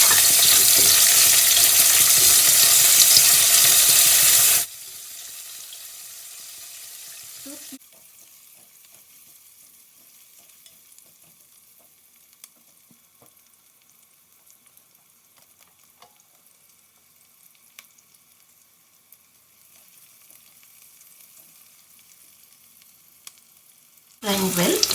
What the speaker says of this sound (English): Frying well.